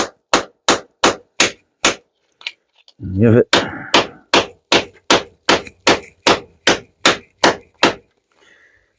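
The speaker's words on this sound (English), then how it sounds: "I like to just take the old hammer," An old hammer whacks scrap circuit breakers in a steady series of loud, sharp metallic strikes, about two per second, with a short pause midway and a brief spoken remark.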